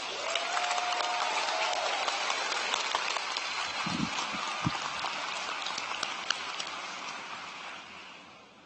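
Dense, steady applause from a large high school graduation crowd fills the space, a continuous wash of hand claps that holds for several seconds before tapering off at the end, with a brief voice surfacing partway through.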